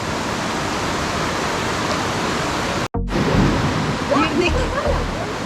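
Water at Karaçay waterfall in Osmaniye pours in a dense, steady rushing roar with a brief cut midway, and faint voices can be heard beneath the continuous noise.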